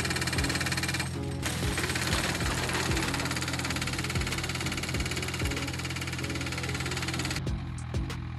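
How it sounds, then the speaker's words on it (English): A tree shaker machine harvests by shaking the tree, its engine thumping in a loud, rapid, rhythmic knocking with repeated low pulses and heavy vibration, continuous and close, with no voices. "This versatile machine and attachment harvests by shaking the tree."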